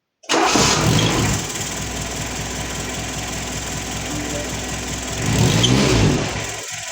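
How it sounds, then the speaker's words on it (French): A Renault 4L engine with a renovated ignition cranks and catches with a loud start, then settles into a steady low idle, revving up briefly near the end. "le moteur il a redémarré"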